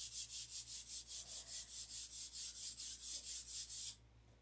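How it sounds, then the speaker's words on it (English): 1500-grit sandpaper blocking out a painted surface, steady rhythmic back-and-forth rubbing strokes, close and even, about four per second, stopping abruptly near the end. "Block it out with 1500 sandpaper, buffer up,"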